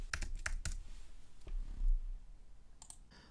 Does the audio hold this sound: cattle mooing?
no